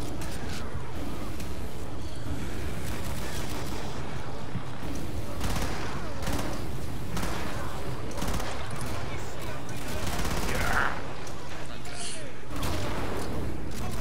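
Gunfire from the co-op shooter game Killing Floor, sustained and dense, with bursts and blasts layered throughout and players talking over it.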